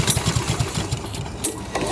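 A vintage Honda Harmony lawn mower is pull-started with the choke closed, giving a short burst of cord rattle and brief sputtering engine pulses without catching.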